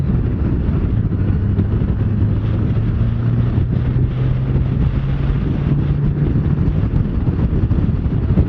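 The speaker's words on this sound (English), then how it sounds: "So it's a nice windy day today" Heavy wind buffeting the microphone while riding a 2018 Honda Goldwing motorcycle on a windy day, a constant loud rumbling roar with a low engine drone underneath and no talking.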